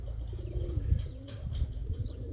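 Pigeons coo softly in a yard, low repeated cooing alongside faint higher chirps in the background, with no talk.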